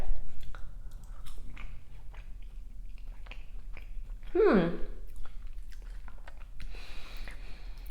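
Close-up chewing of baba ganoush and fries during a mukbang eating show, soft wet mastication and light crunching, with a brief vocal sound in the middle.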